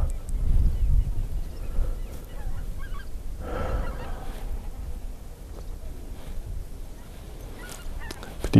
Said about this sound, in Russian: лебеди